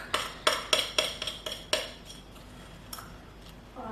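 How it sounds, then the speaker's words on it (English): A spoon clinks against a glass about six times in quick succession as whipped dalgona coffee is scooped onto milk, followed by quieter scraping and a few faint taps. "So all you do is just scoop it out on a spoon and then float it on top of your milk"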